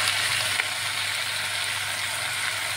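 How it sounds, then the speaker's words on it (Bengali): Chicken with onion and ginger-garlic paste fries in a pan for a chicken curry, giving a steady, soft sizzle with faint crackles and no talk. "পেঁয়াজের সঙ্গে পেঁয়াজ আর আদা রসুন বাটার সঙ্গে চিকেনটা ভালো করে কষে নিয়েছি"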